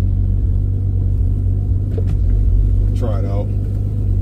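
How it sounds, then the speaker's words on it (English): A 2005 Pontiac Grand Prix with a cold engine idles with a steady, loud low rumble throughout, and someone speaks briefly over it. "Cold start."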